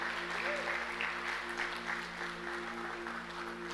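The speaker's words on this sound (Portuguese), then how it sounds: "Vamos aplaudir Jesus." A church congregation applauding together, a sustained wash of clapping at moderate distance under a steady low hum, with no other sound standing out.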